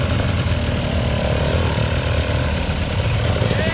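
An enduro dirt bike engine runs close by at a steady, loud drone as it throttles over a log, with no clear pauses.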